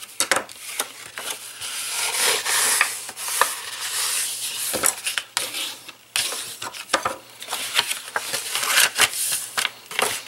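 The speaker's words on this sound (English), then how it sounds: "So just go ahead and fold on all your score lines. Burnish those." Paper gift bags being folded along their score lines and burnished flat, giving steady close rubbing, scraping and crinkling with sharp crisp accents throughout, no voices.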